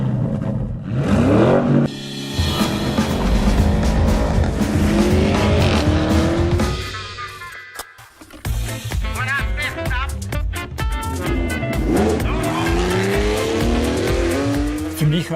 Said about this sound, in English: this central layout of the exhaust system allows us to generate a more emotional sound